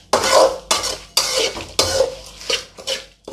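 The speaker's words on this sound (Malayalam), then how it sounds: "അതുകൊണ്ട് അടിയിൽ നിന്ന് ഇങ്ങനെ എടുത്ത് ഇളക്കണം" Grated coconut roasting in a pan for Aranmula-style andiparippu theeyal, stirred up from the bottom: about six close, scraping strokes in a steady rhythm, with no one talking.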